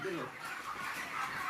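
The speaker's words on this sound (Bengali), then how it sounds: "এই একটা মুরগি" A broiler chicken clucks in short, faint calls at a poultry sale while a person talks nearby, with steady background noise throughout.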